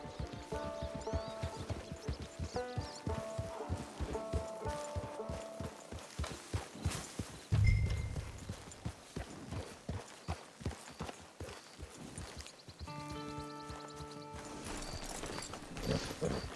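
Rhythmic hoofbeats of a ridden horse in Red Dead Redemption 2, mixed with game music tones. A thump briefly interrupts, then the clopping continues at a moderate level.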